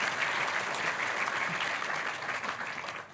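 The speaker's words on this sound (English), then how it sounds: "can we give our judges a preemptive, encouraging round of applause, please, as well?" Audience applause in a hall at a science communication competition final, a steady dense wash of clapping throughout that tapers off slightly at the end.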